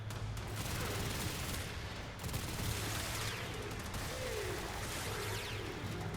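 Rapid gunfire from a weapon shooting enemies in the video game Warframe, a dense continuous barrage of shots with booming impacts over a steady low hum, loud throughout.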